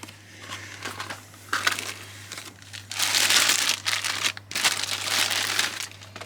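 A packaged item, an expensive treat, being unwrapped by hand, with loud, close crinkling and crumpling of the wrapper in irregular bursts that build into long rustling stretches, with no talk.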